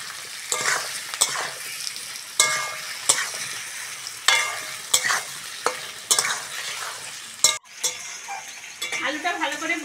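Onions and washed, cut potatoes frying in a pan for Bengali katla fish curry, with repeated stirring scrapes and clinks over a steady close sizzle; no talking.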